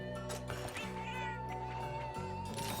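A Palico cat companion meows in Monster Hunter Generations Ultimate, a few short mews over steady game music at moderate volume.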